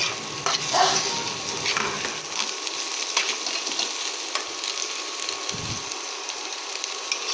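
Chicken pieces fry in a pan at home, giving a soft, continuous sizzle with occasional stirring scrapes, fairly quiet and with no talking.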